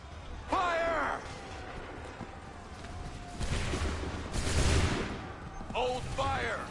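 Musket volley fire in an Assassin's Creed 3 battle, with rolling crackling volleys at mid distance under shouted orders and battlefield noise.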